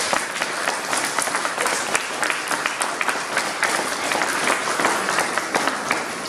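A gathering in Villeparisis applauds in honour of two local heroes, with many hands clapping in a dense, lively patter that stays strong and even throughout.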